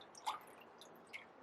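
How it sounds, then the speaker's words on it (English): Recycled paper pulp being stirred in a tub of water, giving soft, faint squishing and sloshing with a couple of small wet splashes. "Just going to stir that up a bit."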